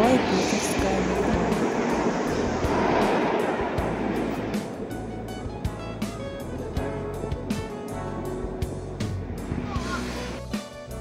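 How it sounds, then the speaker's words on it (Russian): A Saint Petersburg metro train rumbles loudly through the underground, then settles into a rhythmic series of clacks and clicks from the wheels on the rails. "Большой Питерский метро."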